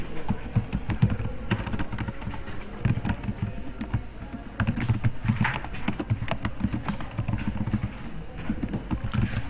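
Keys clatter on a computer keyboard as JavaScript code is typed, giving a steady run of quick clicks in short bursts over a low background hum.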